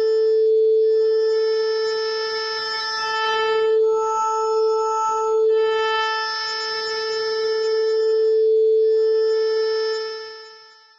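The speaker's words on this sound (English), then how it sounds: "Quite obvious that it's wavetable synth." A wavetable synth tone with an LFO sweeping the wavetable across its extremes gives a steady held pitch whose timbre slowly morphs and wavers over about eleven seconds, loud and alone, then fades out at the end.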